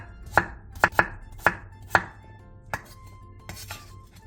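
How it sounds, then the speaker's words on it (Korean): Potatoes are cut into bite-sized pieces on a cutting board with a kitchen knife, eight or so sharp, distinct chops at an uneven pace, close and clear with no voices. "감자 5개를 한 입에 먹기 좋은 크기로 잘라주세요"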